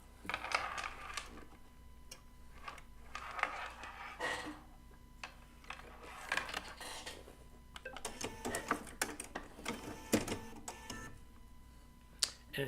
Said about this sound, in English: we're just going to get it threaded up